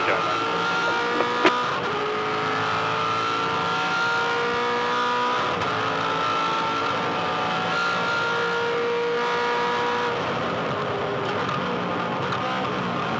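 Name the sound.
V8 Supercar engine racing at Tasmania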